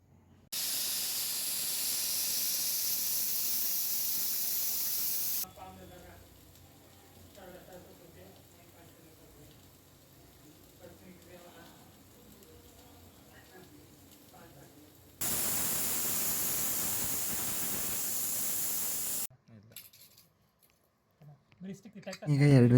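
A pressure cooker whistles loudly while cooking vegetable palav, giving two long steady hissing blasts separated by a quieter stretch in which someone speaks.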